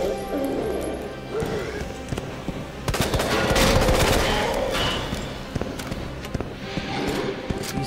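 Rapid gunfire from Resident Evil 2 Remake, clustered shots and crashes that build in the middle and thin out into scattered pops, with a voice talking underneath.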